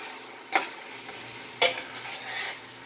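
A skillet of a one-pot chicken and noodle meal sizzles steadily and close by, with two sharp scraping stirs cutting through the crackle.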